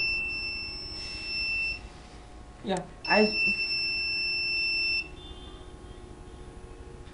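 A mobile phone alarm device emits sustained electronic beeping tones when a message arrives, two long steady tones separated by a short gap, with a voice speaking briefly in the middle.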